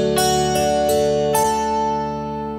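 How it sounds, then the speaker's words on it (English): Four bright plucked kantele notes chime over a shimmering sustained celesta tone, sparkling and close, ringing out as they fade. "a Finnish sitar called KANTELE"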